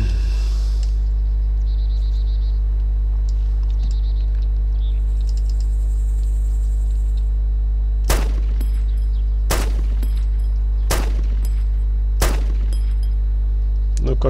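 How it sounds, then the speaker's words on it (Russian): Gunfire in the DayZ Epoch video game: four sharp, loud shots ring out at irregular intervals over a constant low hum, preceded by faint electronic game sounds. "По кому они стреляют"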